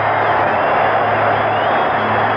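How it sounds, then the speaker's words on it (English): A dense, roaring crowd fills a baseball stadium during a 1977 Royals–Yankees playoff game, giving a standing ovation; the steady cheering and clapping continue loud throughout, as heard over an old radio broadcast. "Listen to this crowd, a standing ovation for Cliff Johnson"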